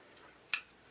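Scissors snipping knitting yarn free from a skein. A single quick, crisp snip sounds close by in a quiet room.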